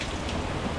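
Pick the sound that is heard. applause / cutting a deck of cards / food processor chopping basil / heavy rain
heavy rain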